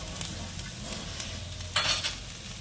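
Food sizzles steadily in a hot pan as turmeric and salt are added, with a few clattering stirs of a utensil and a louder burst of frying near the end.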